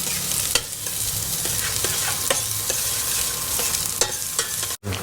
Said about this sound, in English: we just toss in our onions and garlic